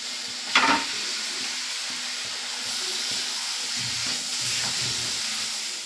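Tomato, cumin powder and other spices are sautéed together in a pan for mushroom curry, giving a steady, moderate sizzling hiss with a brief louder clatter near the start.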